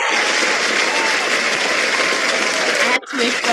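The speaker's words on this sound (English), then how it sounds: "Please give Leah a wonderful, a loud round of applause." Loud, sustained applause from an audience, a dense wash of clapping that briefly dips near the end before continuing.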